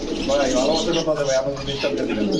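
A pigeon from a red breeding pair coos close by in a soft, continuous run of low, rolling coos that fill the short stretch.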